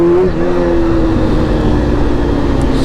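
A 2001 Honda CBR 600F4i sport motorcycle engine drones steadily while riding, loud and close, with a steady tone that dips briefly near the start under wind noise.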